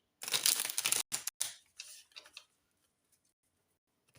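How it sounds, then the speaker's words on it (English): A deck of song cards being shuffled, a rapid burst of close riffling clicks for about a second, then a few shorter crisp shuffles before quiet. "I'm just going to give it a shuffle."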